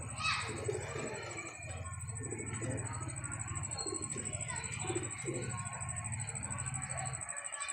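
Pigeon cooing low and steady in repeated soft phrases, with faint children's voices and a person talking nearby, plus a constant high electrical whine.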